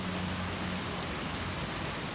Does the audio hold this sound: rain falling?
yes